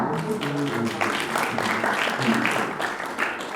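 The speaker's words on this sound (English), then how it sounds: "Let's clap." Audience clapping at a 2021 graduation ceremony of the Zimbabwe Academy of Dental Nursing at Prince Edward School, a steady wash of many hands throughout, with tonal voices or music mixed underneath.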